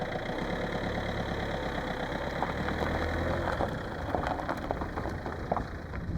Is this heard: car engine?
yes